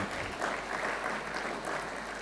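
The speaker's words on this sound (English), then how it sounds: "we should give him a big round of the applause" At an international training programme on seed education, the audience breaks into a short burst of applause: steady, dense clapping lasting about two seconds, fairly close and even.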